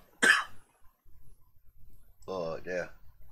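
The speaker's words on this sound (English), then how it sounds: "I'm gonna cough, just bear in mind." A single loud, close cough bursts out near the start, followed by a pause and then a person talking indoors.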